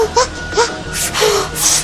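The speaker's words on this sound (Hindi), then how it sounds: "हमारा बच्चा" A child's crying and wailing, heard from behind a closed door in a Hindi TV drama scene, rising in short whimpering bursts with gasps between, fairly loud and close.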